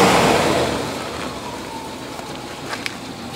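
A 1985 Chevrolet El Camino with a V8 engine idling steadily, loud and close, with a broad continuous rumble and a few faint clicks near the end.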